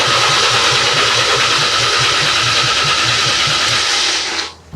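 A BMW E36 engine cranks over with the fuel pump fuse pulled so it cannot start, giving a steady, rapid starter-motor rhythm for about four seconds before it stops abruptly; close and loud, with no talking.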